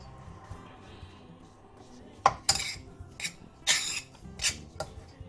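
A utensil scrapes and clinks in a bowl while mixing an attiéké dish, with several sharp metallic taps in the second half over a quiet background.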